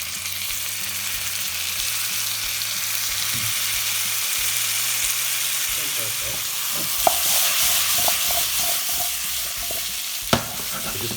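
Potatoes and cauliflower fry in a pan for aloo gobi, a steady close sizzle joined later by scraping stirs and a couple of sharp utensil knocks against the pan.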